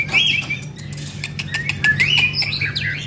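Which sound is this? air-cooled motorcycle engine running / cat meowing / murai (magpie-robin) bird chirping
murai (magpie-robin) bird chirping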